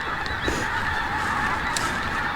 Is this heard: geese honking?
yes